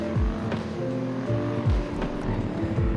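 A Lamborghini Urus SUV launches hard in winter, its engine roaring loud and close as it climbs through rapid upshifts, each gear change dropping the pitch before it rises again.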